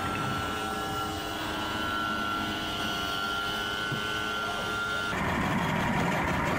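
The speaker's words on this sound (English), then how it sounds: "HPDI, 200 horsepower, two-stroke engines, half a click and started" Twin Yamaha HPDI 200 hp two-stroke outboards on a 2000 Grady-White 265 Express hum in a steady, droning idle, and the sound thickens and grows louder near the end as a further engine note joins in.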